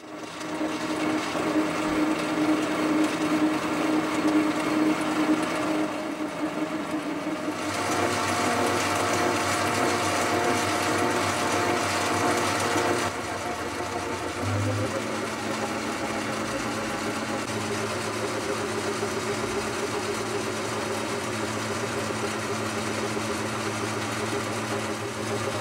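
Metal lathe running with a bar held between centres for a light skim cut, a steady mid-pitched motor whine and machining hum that shifts in tone partway through and continues unbroken, close and fairly loud.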